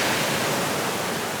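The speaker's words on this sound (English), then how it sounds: "Climb up to the side of a waterfall." A waterfall in the Amazon rainforest roars close by, a loud, dense, unbroken rush of broadband noise with no voices.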